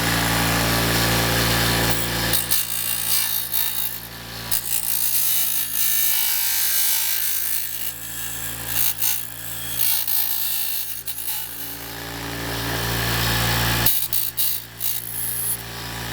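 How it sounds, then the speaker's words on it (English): Bench grinder wheel shaping metal road spikes: a loud steady whine of the spinning wheel, broken by scraping grinding bursts as the metal is pressed on and lifted off, with no talking. "Keep in mind these spikes will be getting hot while you're grinding on them."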